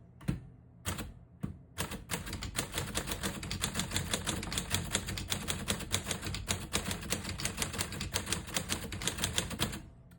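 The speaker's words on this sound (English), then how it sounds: "Beautiful typing machine." A maroon 1939 Corona Sterling portable typewriter types in red ribbon with a rapid, uneven stream of crisp key strikes close up, after a few separate opening clacks and no talking.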